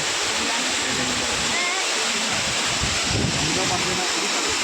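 Constant loud roar of the Savatsada waterfall in Chiplun, heard up close as an unbroken wash of crashing water, with a hint of wind noise and indistinct voices beneath.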